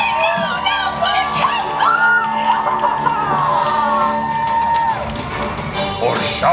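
A live audience at a Disney's Hollywood Studios villains show screams, cheers and whoops in a dense, continuous crowd roar, with a performer's amplified voice over it.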